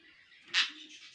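Rainbow violet finches for sale: a short, high, thin chirp stands out briefly, close and fairly faint, over a soft background twitter.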